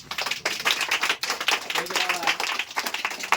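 Village schoolchildren clapping together after a correct quiz answer, a dense, lively round of hand claps that rises and falls, with voices mixed in.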